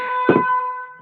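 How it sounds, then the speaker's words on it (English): A mobile phone ringtone gives a short, steady electronic tone alone, with a brief burst of noise partway through, then cuts off after about a second. "Sorry, that's my phone."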